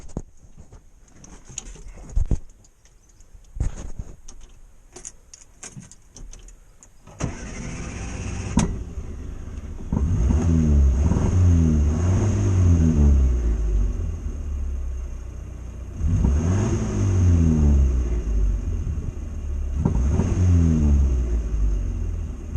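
A 1962 Morris Minor with a running fault: a few clicks and cranking, then the engine catches and settles into a steady, close idle rumble, with several rising revs blipping above it.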